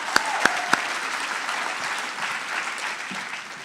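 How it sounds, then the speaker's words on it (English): An audience applauds steadily at a literary event, a dense wash of many hands clapping that carries on throughout, with a few sharp louder claps near the start. "Another round of applause, please."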